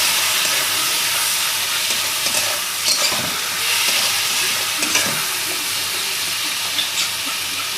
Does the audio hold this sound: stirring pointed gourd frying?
yes